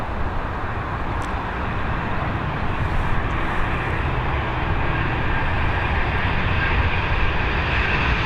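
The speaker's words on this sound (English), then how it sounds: "Here she is, a Boeing 737 MAX coming in." A Boeing 737 airliner coming in to land at Dublin Airport produces a continuous, fairly loud engine roar that stays steady from start to finish, with no voices present.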